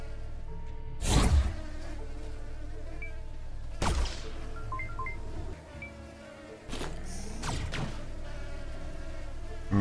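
A fly swarm drones on steadily in Supraland, a buzzing game hum broken by several loud whooshing swells and sweeps, with a brief quieter dip in the middle before the buzzing resumes.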